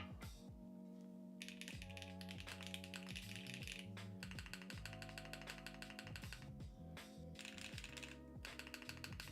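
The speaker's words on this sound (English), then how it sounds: "The spacebar is so loud." Steady typing on a custom Capy60 keyboard fitted with HMX tactile switches and GMK keycaps, a dense stream of close, crisp keystrokes with a heavier, louder spacebar thock recurring through the run.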